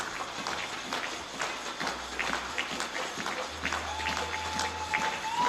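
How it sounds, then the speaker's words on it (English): Spectators at a junior men's air rifle European Championship final in Osijek, Croatia, cheering on competitors, Greek team supporters among them, with steady rhythmic clapping and stamping plus a faint murmur of voices. "Crowd now giving their support and encouragement, particularly from the Greek team"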